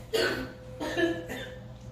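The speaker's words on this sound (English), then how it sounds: "excuse me, I got a cough" Three rough, breathy bursts in close succession, like coughing or throat clearing, close to the listener with a low hum underneath.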